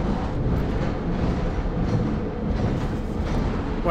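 A train in the Entropy Zero 2 video game rumbles steadily and close, a continuous low rolling drone with faint clatter and no talk.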